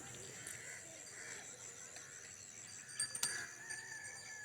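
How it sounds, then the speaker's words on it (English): Faint, scattered high calls of tiny birds drift in over a quiet evening tea garden, with a brighter burst of chirps near the end. "Tiny birds here and there."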